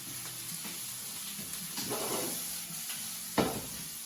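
Scallions and other vegetables sizzle in a sauté pan at a restaurant chef's home kitchen, a steady close hiss with a few soft stirring scrapes and one sharp clink near the end.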